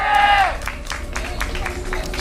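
A live StarCraft 2 tournament audience claps and cheers at a steady, moderate level, with a caster talking over the crowd noise.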